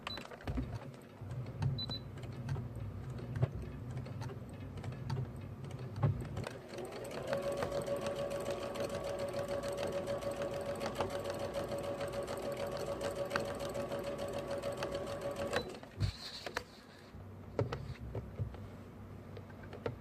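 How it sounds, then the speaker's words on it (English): A sewing machine stitches fabric for a quilt top, running in a steady, fast, close whirring hum for about eight seconds, with softer handling and shorter stitching bursts before and after, and no talking. "I'm sure you've seen people sew before, so this isn't going to be the most interesting part."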